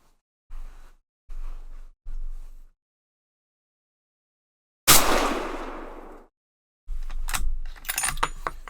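A Savage 110 Precision rifle in .300 Win Mag fires a single 168-grain Sierra Tipped MatchKing load over Reloader 22 powder: one loud, close blast with a reverberant decay. Short handling noises come before it, and a clatter of mechanical sounds follows.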